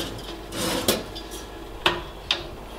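A tray of garlic buns going into a preheated oven, with a rustling slide followed by three sharp metallic clanks of the tray and rack at close range, and no talking.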